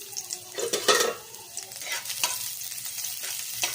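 Onions frying in a pan, a steady sizzle with a few louder stirring scrapes near the start and scattered utensil clicks, close and alone without any talk.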